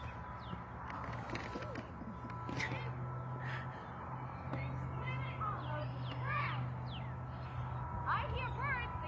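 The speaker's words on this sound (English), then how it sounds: "I hear birds." Birds call outdoors, with short chirps and whistle-like calls scattered over a steady low hum and background murmur, moderately near but fairly quiet.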